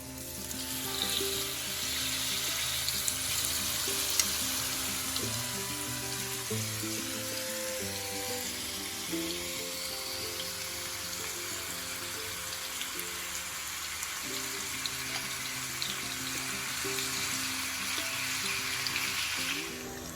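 Steady, continuous sizzling of beef steak frying in a hot skillet, loud and close, with a constant crackling hiss throughout and no talking.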